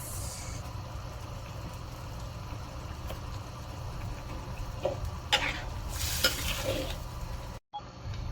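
A spoon works sambal goreng with sweet soy sauce around a frying pan on the stove, with a low steady sizzle under it. Scraping strokes grow busier and louder toward the end, then the sound briefly cuts out.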